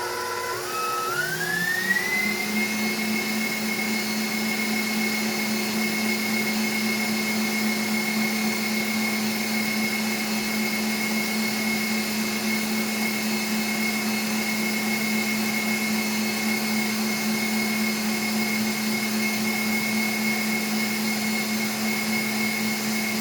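Electric mixer whipping foamy egg whites for Swiss buttercream, motor spinning up from low to a steady high whine and then holding a constant loud drone for a long stretch, alone with no talk.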